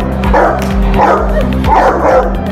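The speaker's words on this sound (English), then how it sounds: "Powerful and loudest bark. Let's hear it first and we'll decide accordingly." A large guard dog, either a Cane Corso or a Dogo Argentino, barks loudly and deeply at close range in a quick series of about six powerful woofs with no voices.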